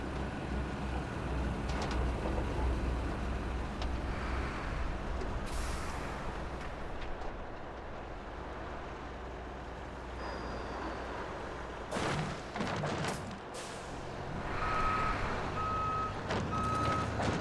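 A truck sounds repeated reversing beeps with air brake hisses and engine rumble nearby, the steady beeping pulsing over the engine noise.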